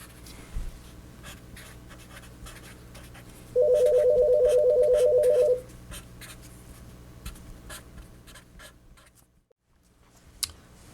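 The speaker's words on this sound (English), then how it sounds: "The phone rang." A telephone rings once in a quiet room, a steady electronic trill lasting about two seconds, amid faint scratching and small rustling sounds.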